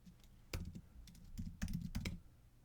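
Typing on a computer keyboard while coding in a terminal, a quiet, close sequence of a dozen or so irregular key clicks and taps, some in quick clusters.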